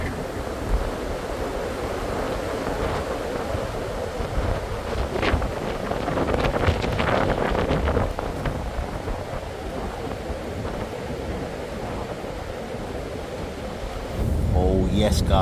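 Strong wind from Storm Isha buffets the microphone with a loud, continuous roar that swells and eases, and a sharper gust near the end.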